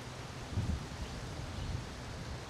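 Stiff wind of about 15 to 20 knots blowing across a golf course at Pacific Golf Club, a steady broadband rush with gusty low rumble on the microphone, alone without voices.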